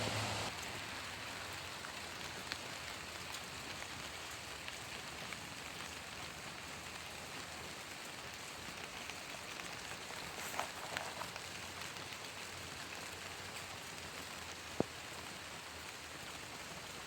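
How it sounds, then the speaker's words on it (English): Steady rain falling outdoors among leafy plants at the end of May, a soft continuous hiss with occasional faint drop ticks, even and fairly quiet throughout with no voices. "We are so happy to see rain. Beautiful rain."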